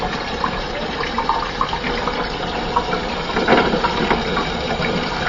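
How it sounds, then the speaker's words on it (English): Hot tap water pours steadily into glass jars set in a pot, a continuous splashing fill with slight gurgles rising in the middle, close and alone. "I will start filling them up with water."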